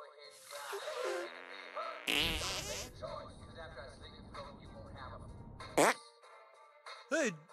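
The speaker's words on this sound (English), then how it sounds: "Make your fart detonate behind me." A cartoonish fart from the South Park: The Stick of Truth video game, a short buzzy burst heard among game dialogue and effects, with character voices talking around it.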